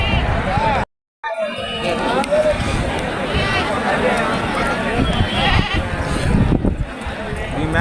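Goats bleating at a busy open-air goat market on the road to Srisailam, repeated calls rising over a constant crowd babble while people talk nearby.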